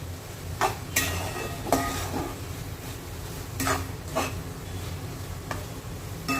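Grated carrot halwa with cream being stirred in a pan: a spoon scrapes and knocks against the metal at irregular intervals, close and fairly crisp over a steady low background hiss.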